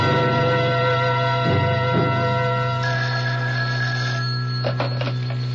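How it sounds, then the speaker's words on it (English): A telephone rings in a radio drama, a steady electronic tone with sustained ringing and a couple of soft clicks, loud and close with no talk. "I've got to make a phone call."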